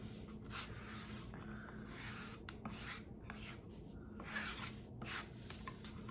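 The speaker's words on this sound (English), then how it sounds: "You can also use this scraping technique on canvas" Acrylic paint is scraped across a surface for abstract art, giving repeated soft, raspy drags at an uneven pace, faint and close, with no talking.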